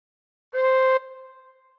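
A single firmer tin whistle note, all six holes covered and blown harder, holds steady for about half a second before fading out through a short room echo.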